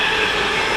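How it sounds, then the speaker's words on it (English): A Pendolino passenger train pulls into Tamworth station on the West Coast Main Line, a steady loud rumble of rolling wheels and rail noise filling the short moment with no voices. "And the Pendolino coming in as well."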